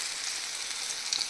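Patud, rolled colocasia leaf rolls, deep-frying in hot oil in a pan, giving a dense, even hiss of bubbling oil throughout, close and alone.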